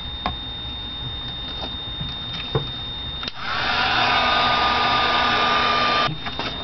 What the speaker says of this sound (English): one more time with the heat gun